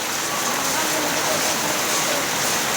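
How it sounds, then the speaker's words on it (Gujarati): Steady rain falls in a dense, even hiss, close and constant throughout with no pauses. "વરસાદ ચાલુ થઈ ગયો."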